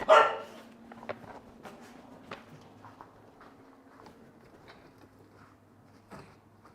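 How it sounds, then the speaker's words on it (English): An Australian Shepherd at a disc dog training session gives one loud, sharp bark at the start, followed by scattered faint knocks and shuffling in a quiet space. "we don't like barky Aussies"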